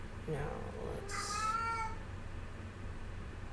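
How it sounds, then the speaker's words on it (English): A house cat meows loudly and oddly a couple of times, close by, with a few quieter sounds before it. "Oh my god, cat, shut up,"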